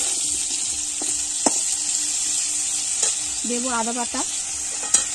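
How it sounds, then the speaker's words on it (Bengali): Vegetables with tomato and salt are stirred in a frying pan, giving a steady sizzle broken by scraping strokes, with a brief spoken phrase partway through. "লবণ দিয়ে একটু নাড়িয়ে নেব"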